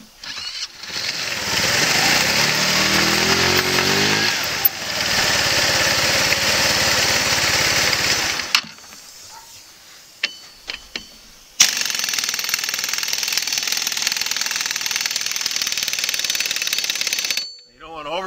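150 cc long-case scooter engine running after a drive belt change, a loud steady high-pitched buzz that cuts out briefly with a few knocks and clicks, then starts again and runs until it stops near the end.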